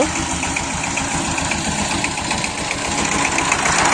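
A tractor engine runs steadily at close range: a continuous low, throbbing rumble with a regular knocking pulse and a bright mechanical hum above it. It carries on without pause, and no one speaks.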